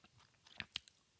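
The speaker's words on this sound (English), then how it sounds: "So you have these swallowing sounds and the smacking and this breathing" Mouth noises picked up by a sensitive podcast voice microphone: a few soft, close wet smacks and clicks in quick succession, faint and with no speech.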